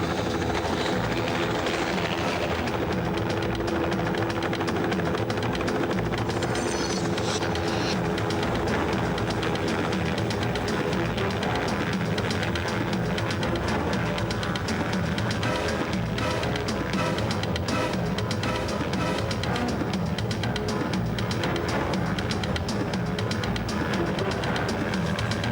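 A hovering helicopter throbs loudly and steadily throughout during a stunt in which a contestant climbs a dangling rope ladder, its broad rotor and engine roar continuous with no talk over it.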